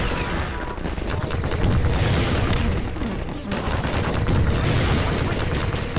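Rocket salvos fired in the Half-Life 2 video game: dense, rumbling bursts of explosions and gunfire roll continuously with a heavy low boom, loud and close.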